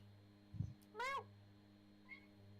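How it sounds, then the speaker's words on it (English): A house cat gives a single short, quiet meow in an otherwise hushed room. A soft thump comes just before it and a faint chirp after, over a low electrical hum. "Wait, that was the cat?"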